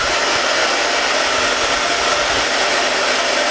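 A hair dryer on its cold setting blows a steady, loud rushing stream of air over a fresh patch on an inflatable product, with no voices.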